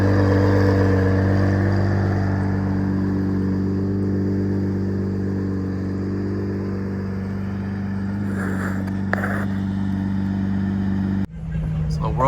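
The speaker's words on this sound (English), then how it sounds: "there's just a roaring V12 waking everyone up" Ferrari Enzo V12 engine running near a farm: a deep, steady rumble with a strong low hum that stays loud and even before cutting off sharply near the end.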